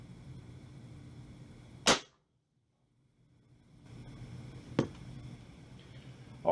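A Taurus Bulldog .357 revolver fires two sharp, loud shots a few seconds apart outdoors, each a sudden crack that cuts off quickly, with a brief near-silent gap after the first.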